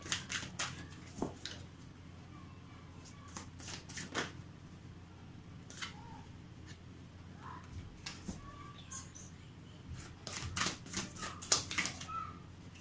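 Tarot cards are shuffled and handled in a quiet room, a series of soft, brisk riffles and flicks in irregular bursts with a short pause between them, close and fairly faint.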